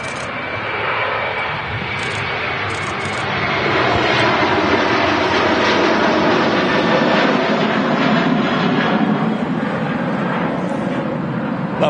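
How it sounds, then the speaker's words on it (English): An Aer Lingus airliner rotates for takeoff at Manchester Airport, its jet engines a broad, sustained roar that swells louder partway through and stays strong to the end, heard from a distance. "Aer Lingus about to rotate here, Andy, as well"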